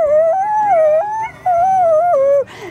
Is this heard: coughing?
no